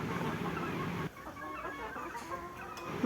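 Gramasree chickens cluck softly during evening feeding, a steady murmur of short calls over a constant background hiss, with a slight drop in level partway through.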